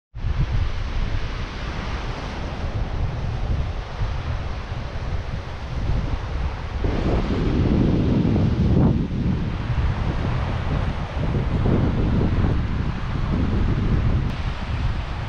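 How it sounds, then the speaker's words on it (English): Pacific Ocean surf on the wild Olympic Coast near the Ozette Triangle, a loud continuous roar of breaking waves mixed with gusting wind buffeting the microphone, swelling stronger partway through, with no talking. "And here we have the mighty Pacific Ocean."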